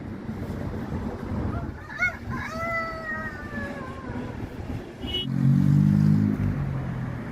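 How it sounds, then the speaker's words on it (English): Chickens squawk outdoors on a city street in Cuenca, Ecuador, a few sharp, drawn-out calls rising over background noise, followed by a low rumbling sound. "Camera girl scaring up the chickens."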